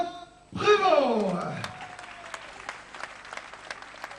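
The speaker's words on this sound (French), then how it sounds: "on peut le raccompagner sous vos applaudissements, mesdames, messieurs" A kickboxing tournament crowd breaks into loud applause and cheering that swells quickly, then thins into scattered claps as it fades, with a voice sounding over the crowd.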